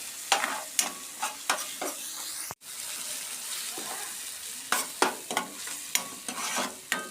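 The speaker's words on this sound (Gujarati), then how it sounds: "હવે મિક્સ કરી લઈશું" A spoon stirs spices in a hot pan for an onion and sev curry, with steady sizzling and repeated close scraping strokes in a regular rhythm, broken by one sharp click and a brief pause midway.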